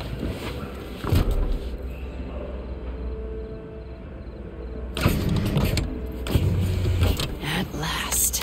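A car in the video game Cyberpunk 2077 drives with a low, steady engine hum, broken by a few louder thumps and shifting mechanical whirs, while voices talk over it.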